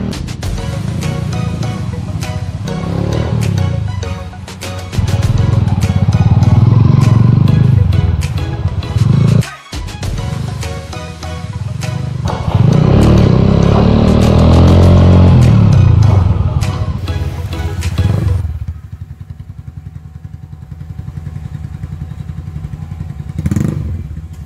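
A Honda TMX 125 motorcycle fitted with a bottle or bullet pipe exhaust revs repeatedly, its loud close engine swelling and dropping in several throttle blips before settling to a quieter idle.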